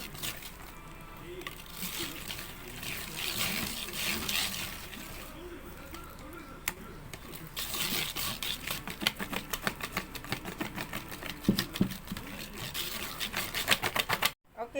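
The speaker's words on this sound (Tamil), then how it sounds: "இப்போ margarineயும் ஐசிங் சுகரையும் நல்லா மிக்ஸ் பண்ணி விடுங்க." Margarine and icing sugar being beaten together in a bowl for eggless Nutella biscuits, heard as rapid, uneven clattering strokes that grow sharper and more insistent toward the end.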